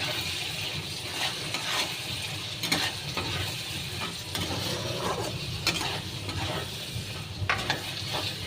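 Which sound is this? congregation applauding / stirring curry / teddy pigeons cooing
stirring curry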